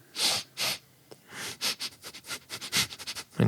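A tabletop game master imitates a dog sniffing, a rapid run of short, breathy nasal sniffs close to the microphone, quickening in rhythm.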